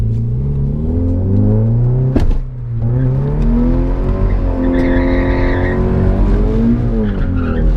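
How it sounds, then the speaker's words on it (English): A Nissan 350Z drifts figure eights on wet, patchy pavement, its engine revving loud and close in rising and falling sweeps, with tires squealing and a sharp thump partway through. "So let's do some figure eights. I'll try to go on the wet patchy part."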